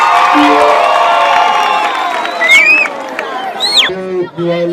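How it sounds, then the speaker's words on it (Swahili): A crowd at a live stage performance cheers loudly with whoops, shouts and whistles, voices rising and falling close by. "Nitupigia makofi tafadhali."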